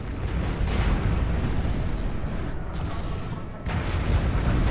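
A grenade blast in the World War II stealth tactics video game War Mongrels, a loud, sustained roaring rumble that fills the whole clip, with a brief dip before a renewed burst of noise near the end.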